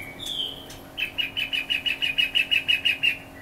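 A hwamei songbird sings close by, opening with a short whistle and then a rapid series of about fourteen bright repeated notes in even rhythm, no voices over it.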